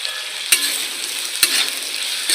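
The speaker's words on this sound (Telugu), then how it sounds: "ఇవి బాగా వేయించండి." Green peas and cauliflower frying in a pan, a steady close hiss of sizzling broken twice by short stirring scrapes, with no talk over it.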